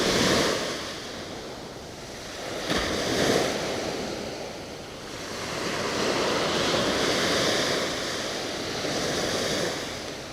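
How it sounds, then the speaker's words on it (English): Ocean waves break and wash onto a Gulf Coast beach in Florida as a continuous roar of surf that swells and eases, mixed with wind buffeting the microphone and no voices. "Some nice waves though, yeah."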